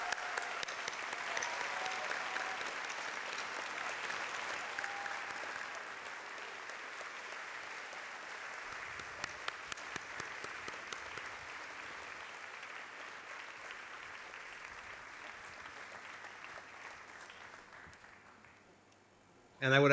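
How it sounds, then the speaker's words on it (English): A large audience applauds continuously for about eighteen seconds at a student council address, the dense clapping fading gradually toward the end. "please stand so we can give them a round of applause as a thank you for"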